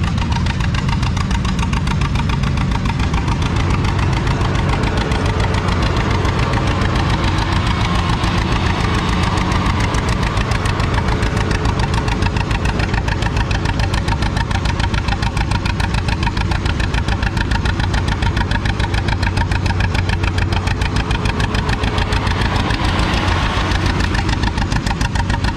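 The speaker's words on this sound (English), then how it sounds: "Got a different John Deere D hooked up." A vintage John Deere D tractor runs at a tractor pull with a big sled hooked up, its loud, close two-cylinder engine pounding in a steady rapid thump throughout without any voices.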